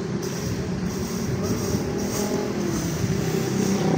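Large buses idling and pulling out at the Payakumbuh city bus terminal, a steady loud engine rumble with a rising rev, continuous and close throughout.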